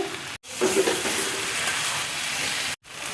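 A spice paste with Kashmiri chili powder and sugar fries in a pan for a vegetarian Gobindobhog rice and jackfruit curry, giving a close, continuous sizzling hiss that stops briefly twice.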